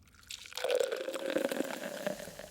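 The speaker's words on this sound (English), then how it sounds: "we're going to grab our glass and we're going to pour our first sample" Home-brewed tropical XPA beer, made from a Woolworths lager extract can with liquid wheat malt, poured into a glass in one steady gurgling stream lasting about two seconds, close and clear.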